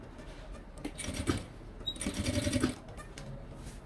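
Sewing machine stitching bias binding along the edge of a Kipling-style fabric case, moderately loud close-up bursts of rapid mechanical whirring, one short run then a longer one, with quiet pauses in between.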